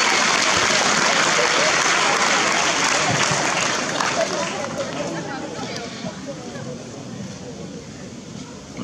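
At a French youth chess championship prize-giving, a room full of people applauds in a thick, continuous wash of clapping that gradually softens, with murmured talk underneath.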